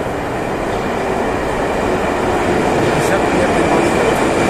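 A Moscow 2.0 metro train arrives at Smolenskaya station on the Filyovskaya line, giving a steady, loud broadband rumble of wheels and motors that holds throughout with faint high hiss, no voices distinct.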